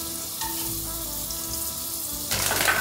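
Garlic frying and starting to burn in a pan while a steak dinner is cooked, giving a steady close-up sizzle that flares louder near the end as something is stirred or added, with no talk.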